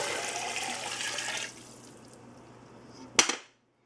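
Vegetable stock poured into a pot of corn chowder with tomatoes and potatoes, a steady liquid rush that stops after about a second and a half, followed by a soft clunk near the end.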